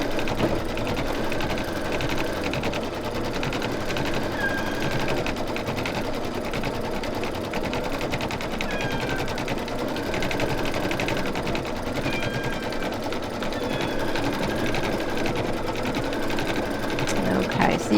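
Embroidery machine stitching a background design in white thread on a snowman mug rug, a steady fast mechanical whir with rapid needle clatter running continuously at close range throughout.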